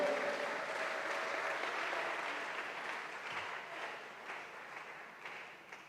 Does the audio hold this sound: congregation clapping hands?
yes